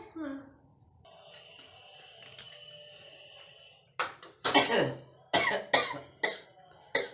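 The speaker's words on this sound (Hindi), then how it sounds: "तो इससे हो रही है बहुत खांसी" A run of harsh, forceful coughs in quick bursts near the end, close and loud, after a quieter stretch with faint background sound.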